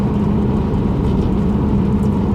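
Interior of a Saab 9-5 2.0 Vector cruising on cruise control along a road, a steady, loud engine and road drone with a constant low hum throughout.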